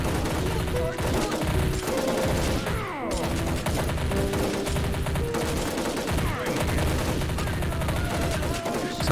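Dense gunfire and mortar blasts in the Army Men Battle Simulator video game, with continuous overlapping volleys, rattling bursts and booms mixed with music.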